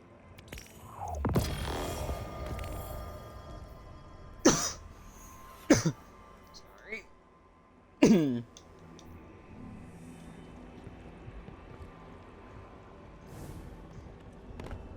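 A person's dry, sudden coughs break out close to the microphone, a heavy burst near the start and then three sharp, isolated coughs spaced a second or more apart over faint steady room noise.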